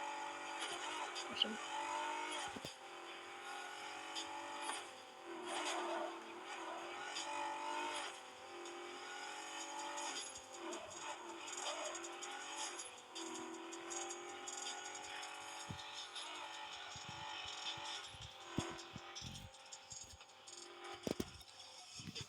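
A racing car engine in a car video game roars and revs continuously with gear-shift dips and rattles, while a voice talks over it.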